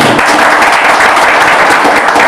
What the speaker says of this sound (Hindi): श्रोतागण के लिए जोरदार तालियां